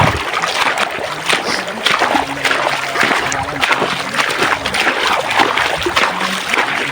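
Water splashes and sloshes continuously as Marvin bathes outdoors, an irregular close splattering with voices talking faintly in the background.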